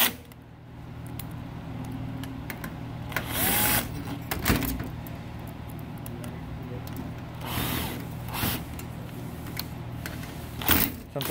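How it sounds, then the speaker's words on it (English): A power screwdriver drives screws into the fax board bracket of a Ricoh MP C3300 copier, producing several short whirring bursts with quieter handling noises in between, close by and with no talking. "And then we put a couple more screws on the top."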